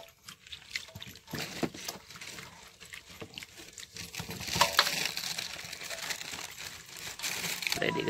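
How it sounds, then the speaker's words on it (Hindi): Cauliflower being washed in water gives off close, irregular splashing, sloshing and crinkly rubbing sounds that grow busier and louder toward the end, with faint talk in the background. "अभी गोभी है इसमें मैंने पानी डाला है, धोएंगे जो अच्छी तरह से धो के फिर पकाना है"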